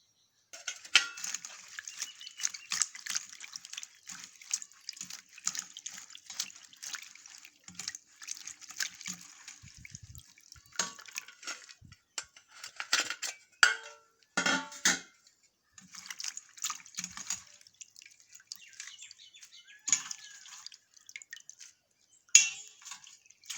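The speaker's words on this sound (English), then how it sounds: "Now I will wash it with water twice and then I will chop it." Banana florets rinsed under running water in a strainer, with steady trickling and splashing plus occasional clinks of the metal strainer and vessel, close and continuous with no talking.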